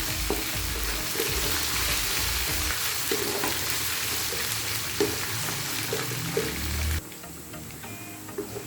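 Crushed ginger frying with browned onion and garlic, a steady sizzle under stirring and occasional utensil taps, dropping quieter near the end.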